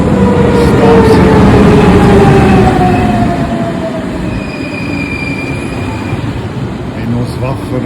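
A train at the railway station in Lauterbrunnen rumbles loudly past, its wheels squealing in long drawn-out tones, easing slightly in volume after the first few seconds.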